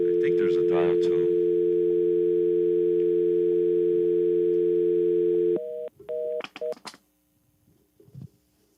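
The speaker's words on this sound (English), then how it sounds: "I think there's a dial tone." A steady telephone dial tone hums loudly for about five seconds, then breaks into a few short beeping tones followed by near silence.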